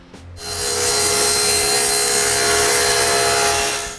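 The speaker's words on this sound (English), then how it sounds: "This runner is too thick, so I cut it thinner." A wooden runner for a table saw sliding table fence is cut thinner with a saw, giving a loud, steady, even rasp of blade through wood that starts abruptly and runs for several seconds.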